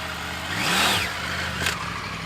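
A 2021 Triumph Tiger 850 Sport engine revs hard off-road, a loud swelling roar that climbs and falls within a second, followed by a shorter burst of engine noise, with no one talking.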